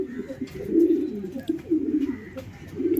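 A racing homer pigeon back at the loft after a 500 km race coos in repeated low, throaty phrases close by, with faint background noise.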